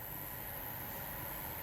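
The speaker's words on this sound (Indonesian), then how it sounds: "Ini suara atom-atom yang bergerak nih dengan efek kerja induksi" A HOCK HI-107 induction cooker heating a hotpot gives off a faint, steady electrical hum and hiss, continuous and even with no talk over it.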